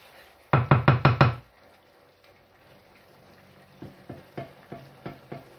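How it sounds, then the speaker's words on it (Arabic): Rice and chicken stirred together in a pot, with a quick run of five loud spoon knocks against the pot, a pause, then lighter scraping taps. "دونك باش نخلط الكل مع بعضو هكا باش نخليه يشرب في عقل"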